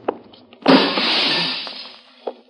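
A window pane is smashed in to break into a ground-level room, one loud close crash with a spray of shattering glass that rings and fades over about a second, framed by faint knocks.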